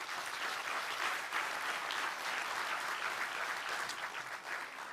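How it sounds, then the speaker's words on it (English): Steady, sustained audience applause for guests at a sustainable tourism investment conference, a dense even clapping that stays level from start to finish with no talk. "Ladies and gentlemen, please give our esteemed guests another round of applause."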